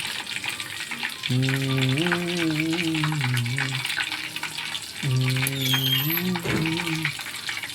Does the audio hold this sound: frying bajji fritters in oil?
yes